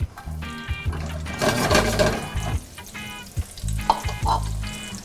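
Onions frying in a hot pan, a steady loud sizzle with stirring scrapes and bursts of crackle running throughout.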